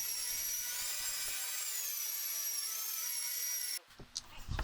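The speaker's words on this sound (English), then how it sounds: "Now I use the belt sander just to smooth any little chatter left over by the router bit" A belt sander runs steadily against the edge of a wooden railing form, smoothing out router chatter, with a loud sustained high whine and dense broadband hiss that cuts off near the end, leaving faint handling knocks.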